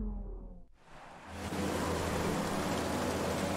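Rain hisses as a dense, steady wash of noise during a wet race in the F1 2019 racing game, starting after a low engine-like hum fades, fairly quiet and with no voices.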